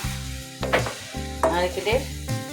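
Grated coconut being stir-cooked on high flame in a pan for Diwali laddu, with a bright sizzle and several bursts of scraping as it is turned, close and fairly loud over a steady hum.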